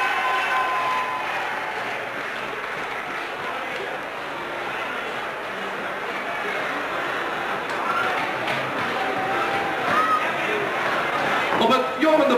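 Steady, dense applause from a crowd at the 1987 Strongest Man of the Zuidwesthoek competition in Friesland, cheering a strongman competitor. It carries on at an even, fairly loud level for the whole stretch, with voices mixed into the crowd noise.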